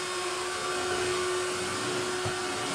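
A household vacuum cleaner runs steadily, a loud constant whine and roar with a steady tonal hum, continuous throughout with no voices.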